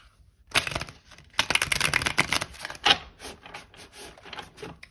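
Tarot cards are shuffled up close in quick rustling bursts, brisk papery riffles and rubbing with short pauses between, no voices.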